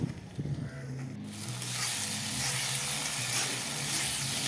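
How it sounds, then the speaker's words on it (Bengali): Spice paste (masala) with green chillies frying in a pan, giving a steady, loud, close sizzle that builds after a brief softer start and continues evenly throughout. "এখন মশলাটাকে ভেজে নেই"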